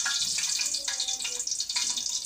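Whole cardamom pods and cinnamon sizzle and crackle in hot ghee in a pan, a steady bright hiss, close and moderately loud, with no talking.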